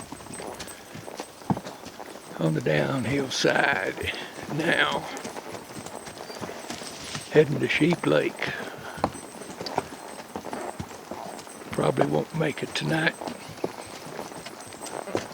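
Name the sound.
hoofbeats of gaited mules walking on a mountain trail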